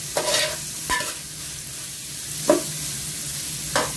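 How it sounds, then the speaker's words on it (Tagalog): Lemongrass sautés in a pan for dinuguan, a steady soft sizzle underneath four distinct scraping stirs of a utensil against the pan, close and clear with no talking. "igisa din natin ang ating tanglad"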